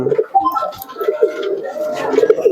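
Pigeons coo in short repeated throaty phrases close by, with soft chirps mixed in and a little background noise.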